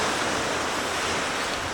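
Ocean waves on a beach: a continuous, fairly loud rush of surf and wind with no distinct breaks, and no talking.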